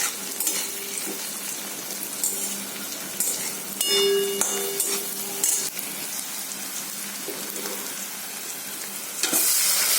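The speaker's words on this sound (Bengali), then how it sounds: "এই মাংসটা দিয়ে দেবো, ম্যারিনেট করা মাংসটা দিয়ে দেবো।" Marinated meat frying with onions in a pan, a steady close sizzle throughout with occasional clinks and stirring scrapes of a utensil, no talking.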